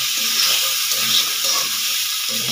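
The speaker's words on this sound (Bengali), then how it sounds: "মটরশুঁটিগুলো, দিয়ে একটুখানি নাড়াচাড়া করব।" Peas sizzle and hiss in a frying pan while being stirred, a steady bright frying noise with soft scraping underneath.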